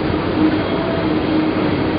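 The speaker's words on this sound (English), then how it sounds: "There are now, like, three trams on the way right here." A tram rolls along a city street in China, giving a steady, close, continuous rumble and rattle with no break and no talking.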